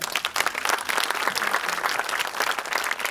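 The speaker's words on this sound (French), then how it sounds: "On peut l'applaudir également." An audience at a French cinema masterclass with Michel Blanc applauds warmly, a dense, steady burst of clapping filling the room.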